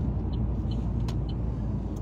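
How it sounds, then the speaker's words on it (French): A large articulated city bus rumbles past with a deep, steady low-end drone and a couple of faint brief hisses on top, close by and without talking. "Bon, c'est un bus articulé"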